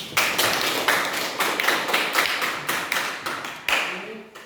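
Classroom of students clapping hands together in a quick series of sharp, loosely synchronized claps, fairly close and loud, with brief pauses between bursts.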